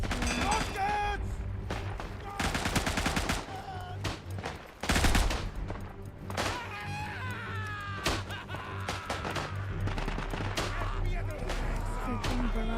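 Dense video game gunfire barrage, rapid automatic bursts and heavy shots layered into a loud, nearly continuous roar with crashes, punctuated by shouted voices.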